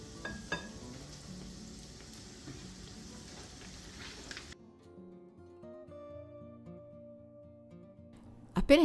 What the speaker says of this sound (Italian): tuffate uno alla volta i fiori di zucca nella pastella facendoli ricoprire per bene e adagiateli nell'olio